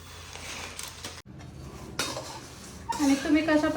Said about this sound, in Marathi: थोडीशी विकत शेव आणली ती त्याच्यात आपण मिक्स करूया